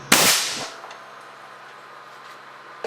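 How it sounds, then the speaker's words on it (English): A sharp, loud crack as a 565-caliber air cannon at 325 psi fires a lead bullet into a bathroom sink bowl, followed by a brief fading ring and a small second knock near the end. "I'm going to aim a bit left of the drain, down in the bowl. 325 psi, and fire."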